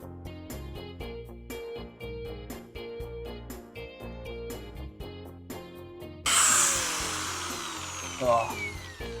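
A power tool cuts through both skins of a rusty body panel on an MK3 Ford Zephyr, bursting in loud and harsh near the end after a stretch of music, with a brief louder rise before it stops.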